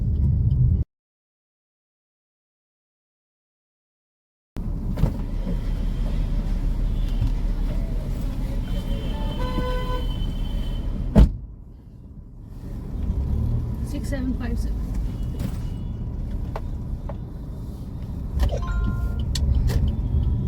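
Car ride through traffic during an Ola/Uber pickup and drop in an industrial area, a steady low engine and road rumble inside the cabin after a brief silent gap, with a thump midway and people talking over it.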